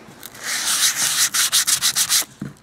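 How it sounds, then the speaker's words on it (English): Folded sandpaper rubs by hand over hardwood in quick back-and-forth strokes, a close, crisp scratchy hiss that speeds into a run of short rhythmic passes before stopping. "I just keep going around and going over it, folding up my sandpaper, trying to get into some of these little nooks and crannies, smoothing them out"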